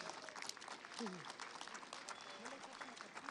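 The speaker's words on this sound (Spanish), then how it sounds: "un aplauso a los chicos y a las chicas" Faint, steady applause from a crowd honouring school children at a political event in Argentina, a dense wash of claps with brief voices audible in the middle.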